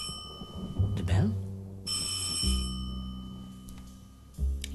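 A doorbell rings a few times over a steady hum, with a voice speaking briefly nearby.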